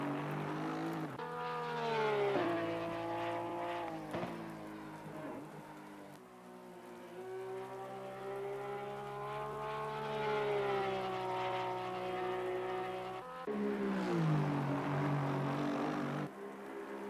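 A race car in Assetto Corsa Competizione, a Porsche, starting its lap at Spa, engine droning steadily with rising and falling pitch through gear changes, loud and continuous with no talk.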